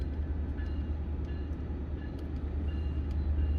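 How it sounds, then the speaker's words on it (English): An LIRR Speonk-to-Jamaica local commuter train with a C3 cab car in the lead rolls past, a steady low rumble and rail noise with faint clicks, continuous and fairly close. "here comes train 45 now. Speonk to Jamaica local"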